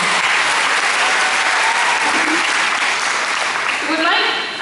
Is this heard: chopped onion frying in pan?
no